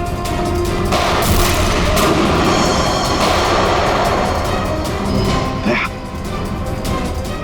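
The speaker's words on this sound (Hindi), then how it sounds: "गोलियां चला कौन रहा है?" Gunfire in a Hindi police crime drama scene, a dense stretch of booming shots and rumble, loud and continuous with a brief lull near the end.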